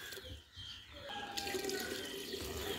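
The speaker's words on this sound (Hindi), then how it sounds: "इसमें पानी भी डालते हैं" Water poured into a cooking pot (handi) running steadily as a continuous splashing stream, close by and fairly loud, with no talk.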